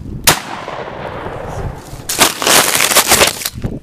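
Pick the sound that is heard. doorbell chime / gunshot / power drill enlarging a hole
gunshot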